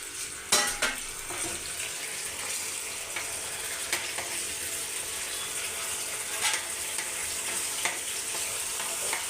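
Tomatoes fry in too much oil in a pan for a home-style mushroom curry, a continuous soft sizzle with occasional clinks and scrapes of stirring, fairly quiet.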